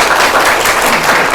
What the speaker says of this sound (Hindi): मेरे लिए तो तालियां बजा दो